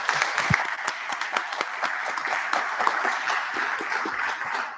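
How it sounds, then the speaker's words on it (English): Audience applause for panelists at a congressional series event, a dense sustained clapping from a room full of people lasting throughout at steady loudness, with no talk over it. "Let's give them a round of applause."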